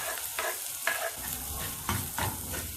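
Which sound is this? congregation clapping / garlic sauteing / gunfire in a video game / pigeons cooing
garlic sauteing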